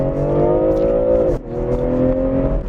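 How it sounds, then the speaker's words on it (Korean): A BMW M340i xDrive Touring wagon accelerates hard with stability control switched off. Its engine note climbs loud and close, drops briefly at a gear shift, then rises again. "와, 약간 어지러운 감이 들 정도로 아주 빠르게 가속을 하는데요"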